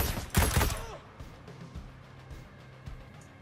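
A loud, close burst of gunfire erupts in a shooter game, two quick shots in rapid succession, then fades into quieter scattered clicks and faint ambient noise.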